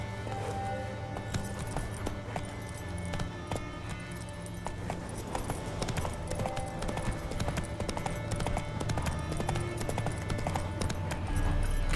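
Horse hooves clip-clop steadily in The Witcher 3, a regular rhythm of clear hoofbeats layered over the game's constant ambient sound and music throughout.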